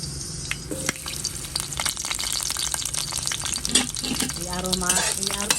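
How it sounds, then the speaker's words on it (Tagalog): Chopped onions land in a hot oiled pan and start frying, a dense, steady sizzle with a few scattered spatula clicks and scrapes, close and fairly loud with no talking. "Ngayon, ihuhulog ko na ang sibuyas."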